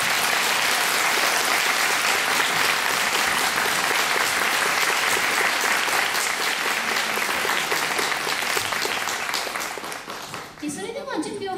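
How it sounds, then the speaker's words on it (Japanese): Sustained loud applause from an audience at a Kamen Rider OOO movie talk show, a thick wash of clapping that fades out near the end, where a voice starts speaking. "大きな拍手でお送りください。"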